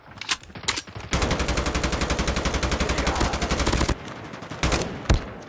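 Rapid automatic gunfire from Call of Duty Mobile, a loud sustained burst of evenly spaced shots lasting nearly three seconds, framed by a few single shots before and after.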